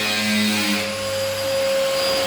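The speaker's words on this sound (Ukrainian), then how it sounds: "Починаємо вже потихеньку пилісосити." A vacuum cleaner runs while a room is cleaned, giving a steady, close, continuous motor whine with a constant tone throughout and no voices.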